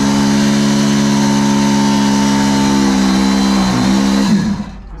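Mining machine engine at the Brooks Mine, held at steady throttle with the clutch engaged: a loud, close, droning mid-pitched motor hum that holds evenly, then drops and sputters down near the end.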